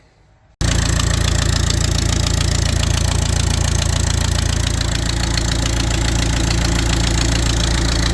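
A Saab 9-3 diesel engine starts up and runs loud and close, settling into a steady, rough, knocking idle that holds for several seconds with no talk.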